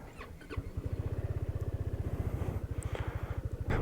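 A 2021 Kymco XCiting S400 TCS scooter engine cranks at the press of the starter button, catches, and settles into a steady, close, throbbing idle.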